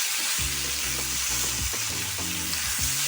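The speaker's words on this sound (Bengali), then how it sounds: "নেড়ে দেখে নিলাম সবজিগুলো মোটামুটি সিদ্ধ হয়ে এসেছে, ভাজা ভাজা হয়েছে।" Vegetables frying in a pan for a Bengali mixed-vegetable chorchori with taro stems, with a steady close sizzle and bursts of spatula stirring and scraping against the pan throughout.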